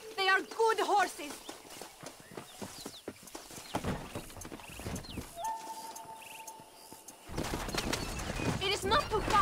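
Horses pull a stagecoach in the Red Dead Redemption video game, their hooves clip-clopping in irregular bursts under intermittent game dialogue and other sound effects.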